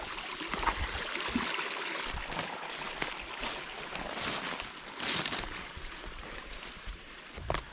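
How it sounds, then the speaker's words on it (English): A sizable woodland creek runs steadily at an old pioneer homestead site, a continuous broadband rush of flowing water with small surges, heard close and alone. "We came up on another creek. This one looks a little more sizable."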